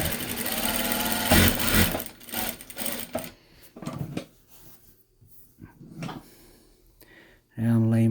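A Bridgesew 8700 industrial sewing machine runs in a loud stitching burst at the start, then goes quiet through short intermittent clicks before whirring up again near the end.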